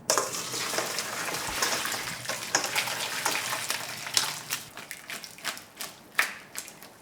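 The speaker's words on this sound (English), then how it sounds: "And then I'm going to strain this. This is my strainer and the bowl." Anchovy and kelp stock poured through a strainer into a bowl, a splashy trickle of liquid with clinks and taps of the strainer, close and moderately loud.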